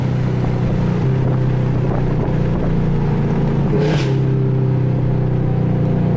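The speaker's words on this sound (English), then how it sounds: "Going through some gears and everything." A Camaro ZL1 engine revs as the car goes through its gears, a loud, deep roar that climbs and drops with each shift, with heavy wind buffeting over it.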